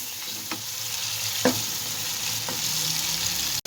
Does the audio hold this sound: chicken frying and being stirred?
yes